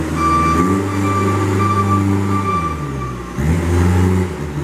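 A 2010 Moffett M40 truck-mounted piggyback forklift runs its hydraulics as the mast moves in and out, giving a loud, steady engine and hydraulic drone with a brief dip in pitch partway through before it rises again.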